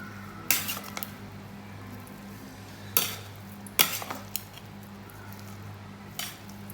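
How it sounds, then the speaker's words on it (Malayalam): A utensil scrapes and clanks against a pot of Thalassery beef dum biryani in a few sharp, separate strikes over a faint, low background hum, fairly quiet and spaced irregularly. "നമുക്ക് ജസ്റ്റ് ഒന്ന് മിക്സ് ചെയ്ത് കൊടുക്കുക."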